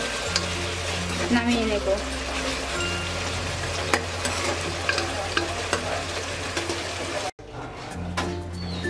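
Chicken roast being stirred in a hot pan after a spoonful of lemon juice goes in, a busy sizzle with repeated scraping strokes of a spatula, a brief dropout near the end, and a voice speaking briefly.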